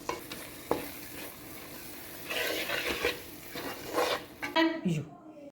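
Gooseberry pickle seasoning with asafoetida powder sautéing in a pan, a steady sizzle with scraping stirs and clinks of a utensil against metal, louder bursts toward the end before cutting off; no talk.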